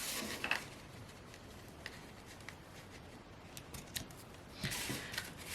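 Scissors trimming the ribbon ends of a tie on a handmade card, two faint, brief snipping bursts near the start and end over a quiet room hush, with no speech.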